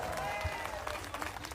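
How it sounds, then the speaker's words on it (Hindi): A stage-show audience claps for a Bhojpuri actress in a brief, fairly soft burst of dense applause heard from a distance. "जोरदार तालियां सुबी जी के लिए हो जाए"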